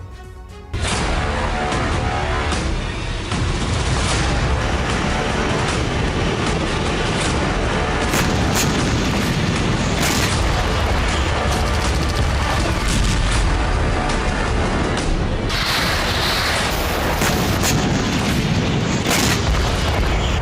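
Glide bombs exploding in eastern Ukraine in news footage: a dense, continuous roar of heavy booms and rumbling blasts, loud and sustained throughout with no pauses.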